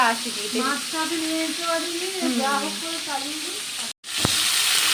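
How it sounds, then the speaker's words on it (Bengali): Pointed gourd and potato frying in oil in a home kitchen, a continuous hiss beneath a voice talking throughout, with a brief dropout near the end followed by a sharp tap. "সেটা দিয়েই মা এখন আলু দিয়ে তেল পটল করছে"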